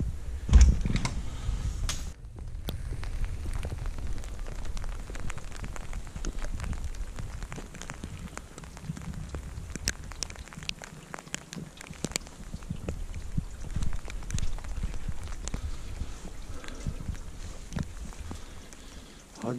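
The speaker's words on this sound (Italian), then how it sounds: "Oggi piove." Rain falls steadily outside a mountain home, a continuous close patter with scattered sharper drops and ticks, fairly loud and unbroken, with no voices.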